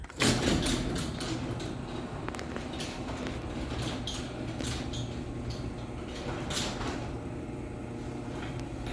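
A LiftMaster 8587W garage door opener runs along its rail with a steady mechanical drone and faint creaks, sounding fairly quiet and close apart from a louder bump at the start.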